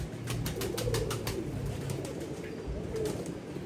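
A pigeon coos nearby in soft, low, repeated calls, set against a steady background of faint chirping and ambient noise.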